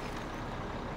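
Truck brakes on a heavily laden vehicle in Farming Simulator 17, rolling downhill on flat tyres down to the rims; a steady, dense hiss and rumble runs unbroken throughout, fairly quiet and with no voices.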